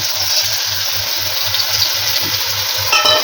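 Whole spices frying in hot oil with ginger-garlic paste for chana pulao, a steady bright sizzle with a soft rhythmic low thumping of stirring beneath, ending in a slightly louder burst.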